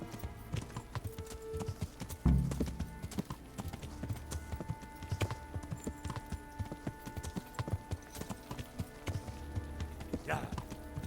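Steady rhythmic clip-clop of a horse's hooves trotting at a moderate pace in the video game Kingdom Come: Deliverance, with a brief thump partway through and a faint whinny near the end.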